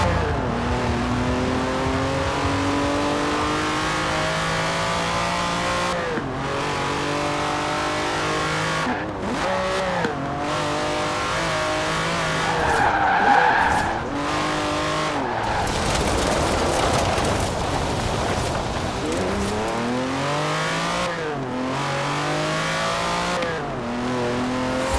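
Lamborghini Countach racing in Forza Horizon 4, the engine revving loudly through repeated rising gear pulls with brief shift drops, plus tire squeal and skidding midway.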